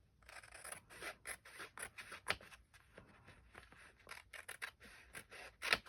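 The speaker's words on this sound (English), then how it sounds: "I think I can trim that just a teeny bit more." Scissors snip paper to trim a journal page, a quick series of close, crisp cuts coming in irregular bursts with short pauses between them and no speech.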